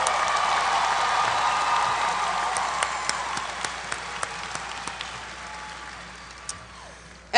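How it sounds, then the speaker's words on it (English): Dense applause from a university commencement audience at Albany State University for degree candidates, steady and broad with a few sharper nearby claps, gradually tapering off. "please join me in a round of applause for these candidates"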